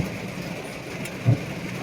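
Heavy rain pours steadily at a hillside viewpoint in Kerala where monkeys stay out in the downpour, a dense even hiss with one brief louder thud near the end.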